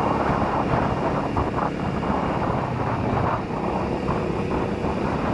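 A stock 2022 Honda Navi motorbike rides through Louisville, Kentucky, its quiet engine blending into a continuous rush of wind and road noise close to the microphone.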